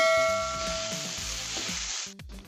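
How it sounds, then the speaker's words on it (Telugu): Bottle gourd pieces fry with turmeric in oil in a kadai, giving a loud steady sizzle that softens slightly toward the end, with faint low background tones and no talking. "కడాయిలో ఆయిల్ సొరకాయ ముక్కలు పసుపు వేసి వేయించుకోవాలండి"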